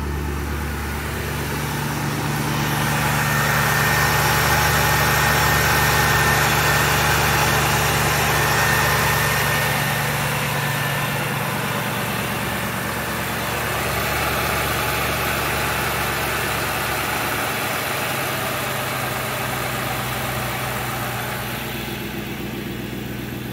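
Steady idle of a Marauder vehicle engine on its first run of the year, a continuous low rumble with a mild swell in loudness midway, heard alone without speech.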